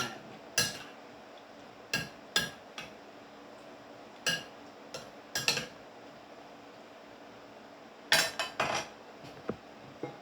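Utensil stirring salsa in a bowl, giving a series of sharp scraping clinks and taps against the sides in irregular bursts, close and fairly quiet, with short pauses between strokes.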